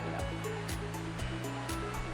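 A wide stream flows beside a woodland trail on the Bruce Trail's Blue Mountains section, giving a steady broadband rush of water heard close by, with faint knocking in the background and no talk.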